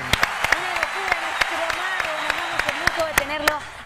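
A television studio audience claps for a magician's trick, steady applause carrying on with sharp individual claps and a voice talking over it.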